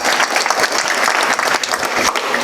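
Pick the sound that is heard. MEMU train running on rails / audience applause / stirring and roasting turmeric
audience applause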